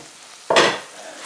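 Tomato pieces hit a hot pan with onion already cooking, bursting into a loud, close sizzle that peaks sharply and then settles into a softer, steady frying hiss.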